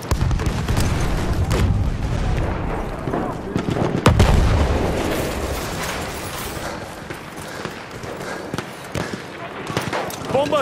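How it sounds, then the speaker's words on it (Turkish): Bombs dropped from a plane exploding in Battlefield 1, heavy rumbling booms and crackling blasts layered over constant engine drone, with a sharp explosion near the middle and a voice talking over the din. "Bomba atıyorum."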